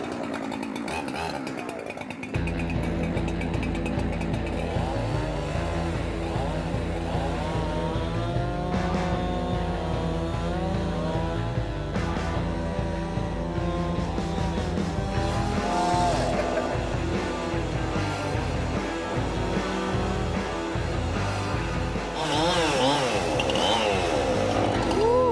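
A chainsaw runs almost nonstop as it cuts through a wooden breakfast bar, its engine revving and bogging under load at close range, with occasional voices in the background.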